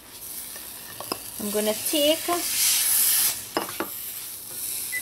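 Cream of wheat parsad being stirred in a pot with cardamom, ginger and raisins, a soft scraping swish with some sizzle running through most of the clip, while a person speaks briefly partway through.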